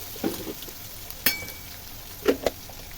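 Spices and homemade meat masala are sautéed in a pan with a low, steady sizzle, broken by a few sharp clinks and scrapes as the mixture is stirred.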